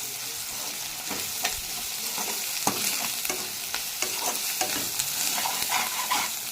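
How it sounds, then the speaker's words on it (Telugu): Onions sizzle and fry in a pan with ginger garlic paste while a spoon stirs now and then, for an Indian cauliflower curry. There is a constant close hiss with soft scraping ticks and no talk. "ఆనియన్స్ అన్నవి కొంచెం బ్రౌన్ కలర్లోకి వచ్చిన తర్వాత మనం దాంట్లో అల్లం వెల్లుల్లి పేస్ట్ వేసుకొని ఆ పచ్చివాసన పోయేంత వరకు మనం దాన్ని ఫ్రై చేసుకోవాలి"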